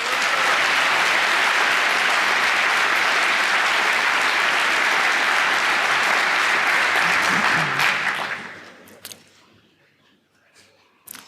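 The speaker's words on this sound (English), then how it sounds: "please give them a warm applause." Sustained audience applause at a hacking conference fills the hall for about eight seconds, loud and dense, then fades into scattered final claps and quiet.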